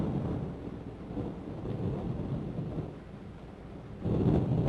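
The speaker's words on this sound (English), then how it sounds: "The space bar turns on and off the automatic lightning sounds for the lightning." An automatic thunder effect that plays with lightning in a haunted-house game: a low, rolling rumble throughout at moderate level, swelling near the end, with no voices.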